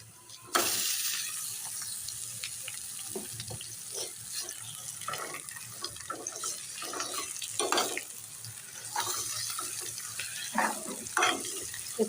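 Mashed potato bhurta being stirred into frying onions in a pan over a low flame: soft sizzling with intermittent scraping and stirring strokes, close and fairly quiet, with no talking.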